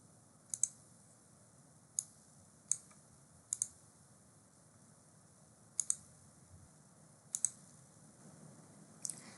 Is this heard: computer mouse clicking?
yes